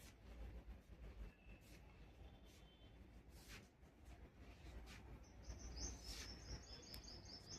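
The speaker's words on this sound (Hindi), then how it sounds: "और सुबह सुबह देखो चिड़िया कितनी सुंदर चहक रही है।" Small birds chirp and tweet in the early morning around 5:30, scattered bright calls near and far over a quiet outdoor background, with a brief, faint rumble at times.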